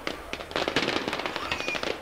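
Fireworks burst in the video game Generation Zero, a quick crackling run of pops and bangs layered close together, loud and dense, with faint voices underneath.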